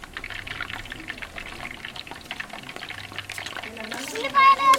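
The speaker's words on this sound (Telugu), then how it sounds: "ఉల్లిపాయలు వేసుకుంటున్నాం." Sliced onions going into a pan for gongura chicken, a liquid pouring and sizzling wash with light bubbling, mixed with background voices including a child, with a brief louder burst near the end.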